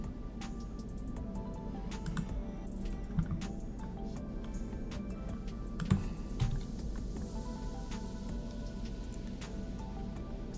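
Keys on a computer keyboard tap in scattered soft clicks at a desk, fairly quiet against a low room hum, with a couple of louder clacks and no speech.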